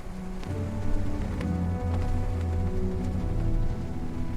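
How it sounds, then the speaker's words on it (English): Heavy thunderstorm rain falls across open Great Plains land, a dense steady patter with scattered louder drops and a low rumbling background throughout. "Sometimes thunderstorms swept suddenly across the open land."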